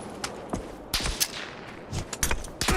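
Gunfire in the video game PUBG: several sharp gunshot cracks in irregular bursts, some closer and louder, others fainter, over quiet background.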